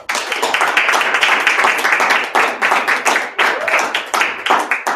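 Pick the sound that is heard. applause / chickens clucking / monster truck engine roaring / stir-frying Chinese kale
applause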